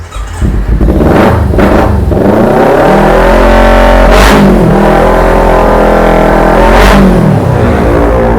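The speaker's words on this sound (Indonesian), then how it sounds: "langsung saja aku cek soundin untuk suara mesin ya" A Kawasaki Ninja SS motorcycle with about 69,000 km on it is revved hard up close: a loud idle broken by several sharp throttle blips that climb and fall, with a couple of longer, higher pulls.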